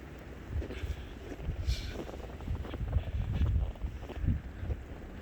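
Strong gusting wind during a mid-Michigan snowstorm buffets the microphone in low, uneven rumbling surges that rise and fall over a few seconds, heard alone without talk.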